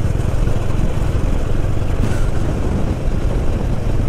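A motorcycle cruises at about 60 km/h along the old WWII runway at Piardoba airfield in Bankura, its engine a steady, close, droning rumble mixed with wind rush and no pauses.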